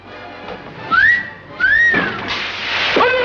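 A person whistles in a film trailer, two rising sliding notes followed by a busier burst, fairly loud and without talk.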